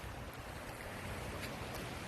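Broadband wash of surf at a seaside beach, steady and continuous with some wind across the microphone and no talking.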